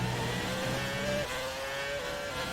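A Formula One race car in the F1 2019 video game holds a steady high engine whine with small pitch shifts, continuous and fairly close, with no talk over it.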